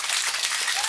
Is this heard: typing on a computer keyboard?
no